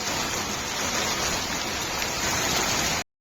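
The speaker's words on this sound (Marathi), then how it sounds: "पाऊस बघा काय जोरात आला" Heavy rain pours down steadily on a village house courtyard in a dense, even roar, loud and close, with no voices, then cuts off abruptly at the end.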